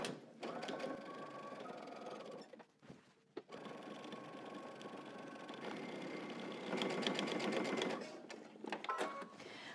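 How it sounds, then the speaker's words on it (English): A sewing machine stitches the bottom of a fabric pocket onto an apron along its edge, running in a steady close whir with brief pauses and a faster burst near the end. "we're going to sew the bottom of our pocket right onto our apron"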